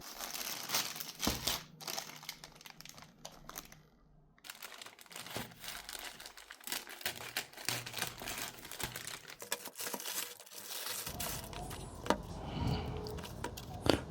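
A cardboard box holding a replacement Stanley thermos lid is opened up close, with soft crinkling, tearing and rustling of packaging going on continuously and quietly, no talking.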